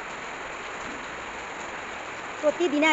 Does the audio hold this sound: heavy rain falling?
yes